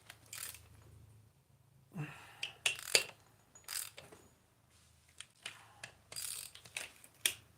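A ratchet wrench tightens a bolt during reassembly of a 2011 Kia Soul, giving irregular bursts of quick pawl clicks with pauses between strokes, close by and fairly quiet.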